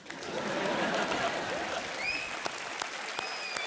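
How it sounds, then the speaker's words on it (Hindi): Studio audience applause on the KBC quiz show, a loud, full burst of clapping that swells quickly, then continues steadily with a few sharper claps and faint tonal cues toward the end. "दे ताली सर"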